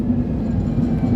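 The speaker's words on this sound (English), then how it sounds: "That's the train with this new flyover and these new concrete beams." A train crosses a new flyover built with concrete beams near Wrigleyville, producing a steady low rumble that holds evenly for the whole moment, fairly close and with no voices.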